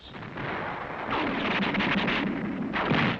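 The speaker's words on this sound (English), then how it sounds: "Artillery of the 15th Marines pounded the Yaitaki defenses" Artillery of the 15th Marines pounding mountain defenses in 1945 Okinawa battle footage: a continuous rumbling barrage of distant booms and blasts, dense and loud, with no speech.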